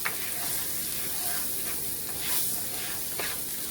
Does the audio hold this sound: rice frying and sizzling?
yes